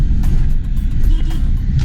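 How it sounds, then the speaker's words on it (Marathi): Low, steady engine rumble and road noise from inside a moving car, with no talking. "डेबू आणि मी बदकासारखे बसलोय गाडीमध्ये."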